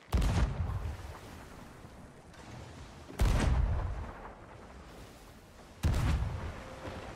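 Three heavy cannon blasts from a naval battle game with a brig and a sloop boom out at roughly three-second intervals, each a loud broadband crack followed by a rumbling tail.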